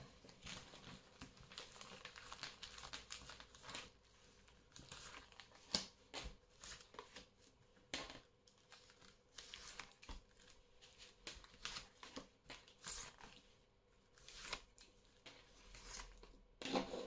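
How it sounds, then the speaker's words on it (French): Soft, intermittent rustling and snapping of tarot cards being shuffled and handled, faint and close, with irregular papery bursts throughout. "Je replace vite fait mes cartes."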